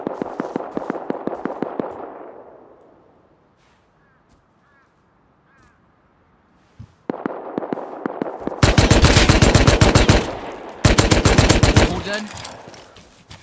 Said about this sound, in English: Shots up there. Shots behind us, too.